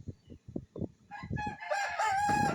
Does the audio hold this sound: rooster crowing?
yes